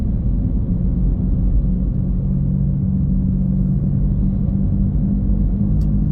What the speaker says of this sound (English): You'll have to forgive the noise in the car.